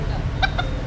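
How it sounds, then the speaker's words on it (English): Two short clucks from a rooster in Hoi An, Vietnam, stand out close by over a steady low rumble of background noise. "Can we touch the chicken?"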